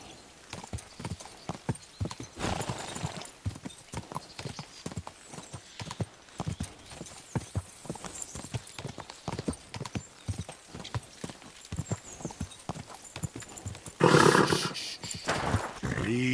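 A horse gallops in the medieval video game Kingdom Come Deliverance 2, its hooves pounding in a fast steady rhythm for a long stretch, with a louder rushing burst near the end.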